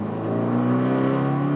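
A 2015 Fiat 500 Abarth engine accelerates with a rising, buzzy rev, heard loud and close inside the car for a brief moment.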